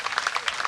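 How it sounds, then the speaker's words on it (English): Brief burst of audience clapping at a pro/am skateboarding shootdown in Shibuya, a quick patter of hands. "Let's get survive a round it. of applause"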